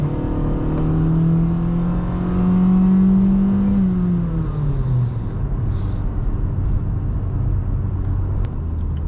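A 2016 Honda Civic already in motion accelerates, its engine note climbing steadily, then dropping with a gear change as the steady road rumble continues close by.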